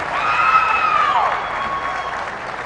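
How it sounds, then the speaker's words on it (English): Steady crowd applause at a youth fair and livestock show fills nearly three seconds, with a brief sliding whistle-like tone riding over the clapping early on. "Let's give him a round of applause."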